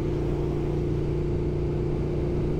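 A vehicle motor hums steadily while cruising along Swanton Road off Highway 1, a constant mid-pitched drone with a faint whir and no change in level.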